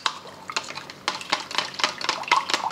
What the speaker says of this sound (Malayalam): നമ്മൾ സ്റ്റൗവിൽ വെച്ചിരിക്കുന്നത് കട്ട കെട്ടാതെ മിക്സ് ചെയ്യണം